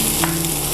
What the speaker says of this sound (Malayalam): അതിനുശേഷം നമ്മൾ നേരത്തെ കട്ട് ചെയ്ത് വെച്ച ജിഞ്ചർ ഗാർലിക് ഇതിലേക്ക് ആഡ് ചെയ്യാം